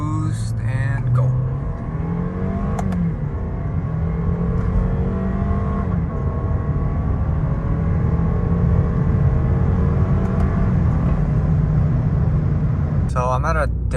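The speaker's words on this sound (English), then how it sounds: "let me get some more turbo noises for you guys. Building boost and go." A 2022 Lexus IS 300 turbo engine builds boost and accelerates, a loud, steady drone whose tones climb and fall across the run, with a brief higher whine near the end.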